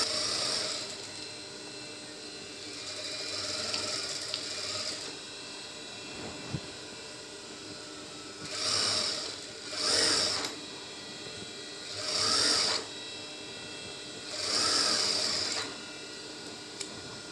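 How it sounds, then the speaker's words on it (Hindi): A sewing machine stitches a trouser seam in repeated bursts of whirring lasting about a second or two each, separated by pauses, close and moderately loud over a faint background hum. "ये इसकी ऑल राउंड सिलाई लग गई।"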